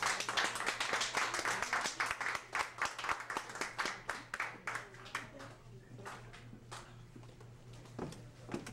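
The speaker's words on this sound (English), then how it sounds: "I want you guys to give a real big applause to Miss Yvette." A comedy club audience claps steadily for a comedian, a dense patter of hands that thins and fades toward the end, with a voice briefly heard over it.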